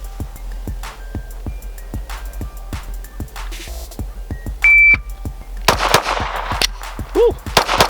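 A Glock pistol fires rounds drawn at three yards on an outdoor range, sharp loud reports in a quick series, a shot timer beeping, and a short burst of noisy handling and a whoop near the end.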